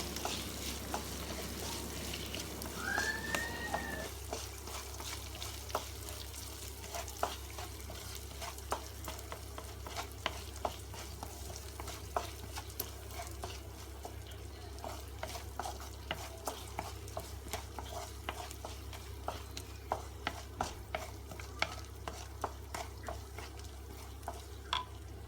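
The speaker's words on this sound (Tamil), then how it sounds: "அந்த ஆனியன் போட்டு கொஞ்சம் அப்படியே வதக்குங்க" One large onion sautéing in a pan for tomato rice, a soft steady sizzle with scattered light scraping and stirring clicks, quiet and close, over a constant low hum.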